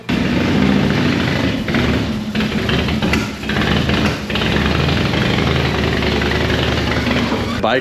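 A Harley-Davidson Dyna FXDX motorcycle engine runs continuously at close range while the bike is ridden up onto a lift, idling roughly with a few surging revs.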